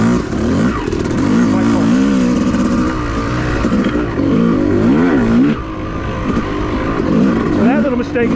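Yamaha YZ250 two-stroke dirt bike lugging along a forest OHV trail, the engine droning and rising and falling in pitch as the rider works the throttle, close and loud with brief speech over it.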